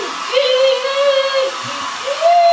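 A hair dryer blows on hair, a loud steady whine and rush that rises and dips in pitch as the airflow shifts, running through the whole stretch with no talk.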